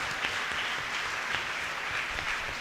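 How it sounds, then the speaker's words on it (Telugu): An audience applauds at a Catholic church feast celebration in Elamanchili, a steady, fairly distant wash of many hands clapping that runs the whole time without speech. "గట్టిగా చప్పట్లు కొడదాం."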